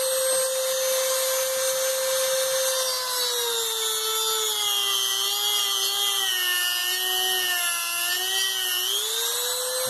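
A micro rotary tool carves into wood with a steady, high-pitched whine that sags and rises in pitch as it bites, loud and close for the whole stretch with no voices.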